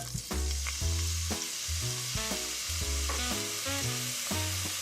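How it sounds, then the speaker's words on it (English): Chopped onion sizzling in hot olive oil in a Dutch oven for homemade chili, a steady close frying hiss with faint stirring, while music plays throughout. "Now I'm going to add in my onion."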